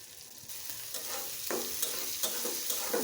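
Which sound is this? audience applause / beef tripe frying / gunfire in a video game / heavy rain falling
beef tripe frying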